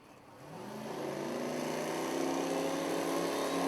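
Powerful drag racing car engines on both sides of the track rumble and rise in pitch together as they build boost, a sustained building roar heard from some distance at the Yellow Bullet Nationals.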